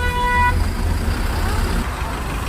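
Jammed festival traffic on the road to Veerappur, packed with buses and other vehicles, rumbles as a steady low drone, with a sustained car horn blaring near the start and faint background voices.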